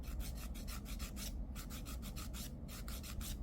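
A nail file rasps across the surface of an extended nail in steady, quick back-and-forth strokes, close and even, with a brief pause midway and no talking.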